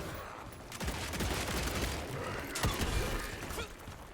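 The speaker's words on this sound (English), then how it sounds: "I'll just shoot you with this gun." Gunfire in Evil West, a dense rapid volley of sharp cracks and metallic clatter over a noisy, continuous battle din, moderately loud and without talk.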